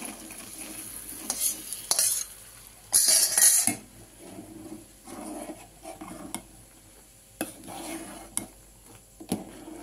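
Pasta is stirred into boiling milk after being coated in melted ghee, for pasta payesh. A spoon scrapes and clinks against the pot in irregular bursts over a low simmering background.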